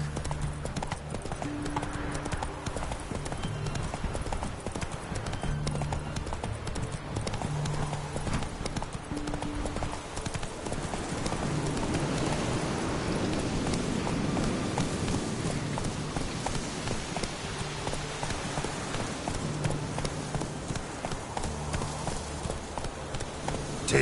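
Roach the horse galloping in Witcher 3, with continuous rapid clip-clop of hooves at a steady rhythm over a low ambient bed, fairly loud and close, no talking.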